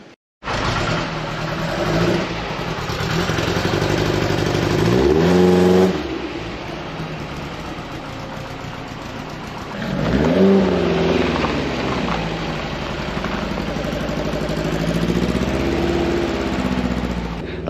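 A tuned Porsche 914 engine strapped to a rolling road eddy current dyno revs hard and loud, its pitch climbing, dropping sharply near six seconds, then surging up again around ten seconds and holding a steady high drone.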